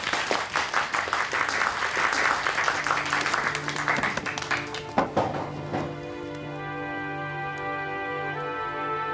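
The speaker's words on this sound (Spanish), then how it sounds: "¡Aplausos!" A conference crowd applauds to welcome a speaker, rapid dense clapping for about five seconds that then thins out and stops, leaving a sustained tonal hum in the room.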